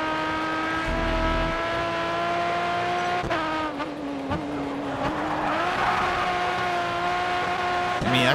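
A race car in the video game GRID Autosport, a loud sustained engine whine that rises and shifts pitch through gear changes, with tire squeal and skidding midway and no talking.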